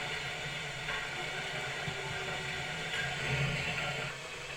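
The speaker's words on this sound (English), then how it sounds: "There's his noisy steam engines." Noisy steam engines churn in a factory in the game Arcanum, a faint, steady hiss and rumble with soft mechanical chugging in the background.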